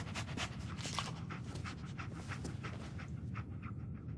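Dog panting from the companion dog in Fallout 4, rapid steady breaths close and continuous throughout.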